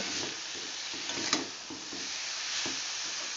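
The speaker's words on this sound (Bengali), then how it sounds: "শাকটা দিয়ে ভালো করে কষিয়ে নেব" Bathua greens frying in a pan while being stirred, giving a steady soft sizzle with light scraping strokes, fairly quiet and close, with no voices.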